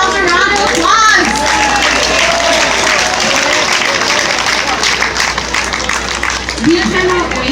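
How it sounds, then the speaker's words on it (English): Outdoor crowd at a beach sand sculpting festival applauding in a dense, steady wash of clapping, with children's voices and chatter mixed through it. "Please give yourselves a round of applause."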